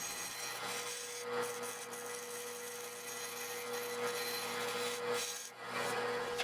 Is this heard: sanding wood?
yes